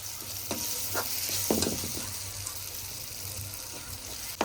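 Cream is being stirred into a spice masala in a pan for a paneer dish, giving soft scraping strokes and wet stirring sounds over a low, steady sizzle, close by with no talking.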